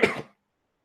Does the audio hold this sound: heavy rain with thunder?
no